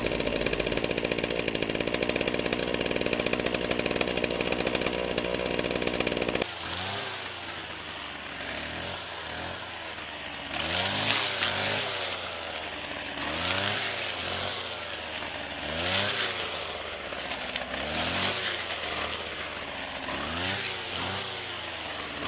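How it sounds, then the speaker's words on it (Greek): A small two-stroke petrol string trimmer sputters at idle, then revs up and down repeatedly in rising bursts, loud and close, while cutting weeds. "Και πάμε να βάλουμε μπροστά το χορτοκοπτικό."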